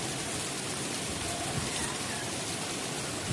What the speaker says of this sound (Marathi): हा बघा आजचा पाऊस.